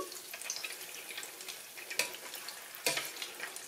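Cheese balls frying in a small amount of oil, a soft crackling sizzle with a couple of sharper pops and stirring scrapes, fairly quiet and close.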